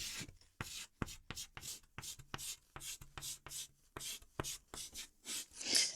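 Writing by hand, close and quiet: a rapid series of short scratchy strokes and scribbles in an uneven rhythm, with no talking.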